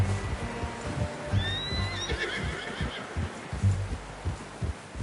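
A horse in the Western video game Red Dead Redemption 2 lets out a high, rising whinny over a steady rhythm of hooves clopping, heard fairly close.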